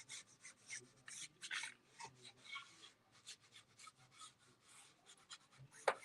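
Finish rubbed by hand onto a thrift store picture frame, giving soft, faint scratchy strokes in an irregular rhythm, quiet and close with short pauses between passes.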